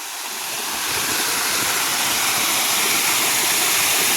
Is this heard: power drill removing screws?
no